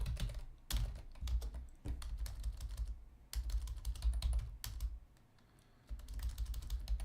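Rapid clusters of computer keyboard keystrokes clack up close, bursts of typing separated by short pauses, including one longer quiet gap near the end before the tapping resumes.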